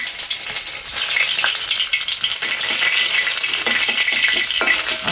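Garlic, bay leaf and dried chili fry in hot oil with cumin, giving a loud, steady bright sizzle with scattered crackles and a few small clinks throughout, with no voices.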